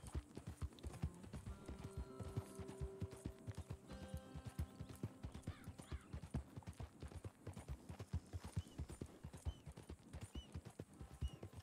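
Horse hooves clip-clop in steady, close rhythm in the Red Dead Redemption 2 game world, loud and continuous, with an occasional neigh or whinny rising over the trotting beat.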